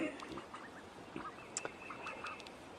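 Several seven-to-eight-week-old ducks quack softly nearby in short, scattered calls over a faint outdoor background.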